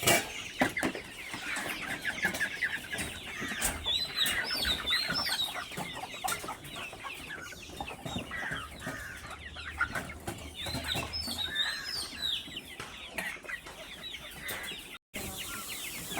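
A flock of farm chickens clucks continuously, layered overlapping calls and chirps filling the scene at close to moderate distance, with no talk.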